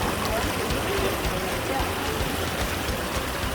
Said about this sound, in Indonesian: Nah, ini kita sudah mau sampai ke air terjunnya.